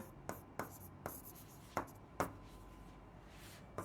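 Pen or chalk writing while working out a simple and compound interest math problem, about six sharp, separate scratching strokes at uneven intervals, close and faint over a quiet background.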